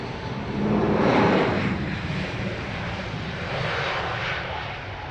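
A Swiss airline Airbus A320 takes off at Heathrow Airport with a loud broadband jet roar that swells and then holds steady, heard from outside the airfield with no talk.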